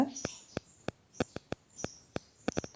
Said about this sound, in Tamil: எங்கள் வீட்டுக்குள்ளே குருவி கூடு கட்டியிருக்குங்களா,